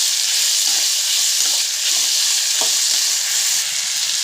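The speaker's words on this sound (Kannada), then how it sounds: "ಇವಾಗ ಟೊಮೊಟೊ ಹಾಕ್ಕೊತಿದ್ದೀನಿ." Tomato frying in a pan for potato rice gives a loud, dense, continuous sizzle throughout, with faint scraping and stirring beneath it and no voices.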